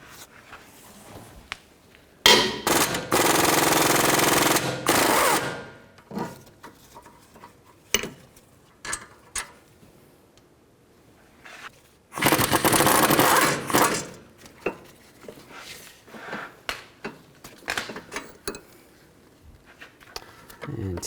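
A 19mm socket on a ratchet or impact tool loosens rear caliper bracket bolts on a 2004-2008 Nissan Maxima. There are two loud, close bursts of several seconds each, with faint clicks and handling noises between them.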